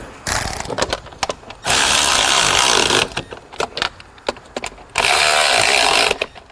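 Power tool on an Audi Q7 3.0L valve cover, running in two long sustained loud bursts separated by clicking, rattling handling noises as the bolts are tightened, with no talk.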